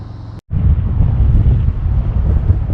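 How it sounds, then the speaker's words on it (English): Strong, steady wind roaring over a motorcycle rider's microphone on Interstate 40 near Winslow, Arizona, a loud continuous low rumble after a brief dropout near the start, with no talking. "It's very windy out here."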